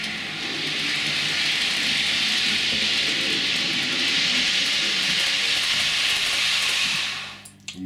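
A model HST train runs along layout track, giving a steady, close, hissing rush and rumble that holds for several seconds and then cuts off with a couple of small clicks.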